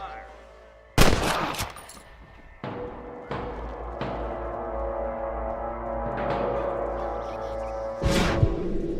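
Gunfire from a Red Dead Redemption shootout: a loud close shot opens a burst near the start, then scattered reports follow over a steady rumbling game background, with another sharp burst near the end.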